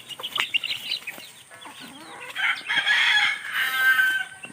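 Broodcock rooster crows loudly in the second half after a few short clucks, heard up close with no talking.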